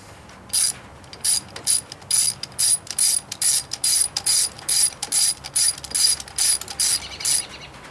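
Rapid rhythmic clicking of a ratchet tightening a banjo bolt on the clutch slave cylinder of a 1983 Honda Magna VF750C, roughly twenty close, loud bursts in steady succession with no talk.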